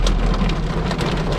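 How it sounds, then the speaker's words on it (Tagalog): Heavy rain pours steadily beside the sea, a dense continuous hiss with a low rumble beneath and no voices. "At lalong bumuhos ang ulan."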